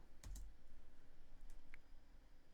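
Quiet keystrokes on a computer keyboard, a few faint taps and clicks at close range over low background noise.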